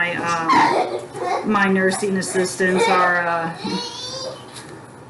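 Therapy dogs yip and whimper in a busy clinical wound-care room, the high dog cries mixing with close, steady adult speech throughout.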